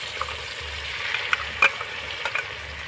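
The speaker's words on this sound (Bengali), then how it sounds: "টমেটোটাকে নাড়াচাড়া করে ভেজে নিয়েছি এবার মশলাগুলো দিয়ে দেবো" Spice paste goes into tomatoes already frying in a pan for a milk-free paneer dish made from taro stems, giving a steady close sizzle with a few soft stirring scrapes and clicks, no talking.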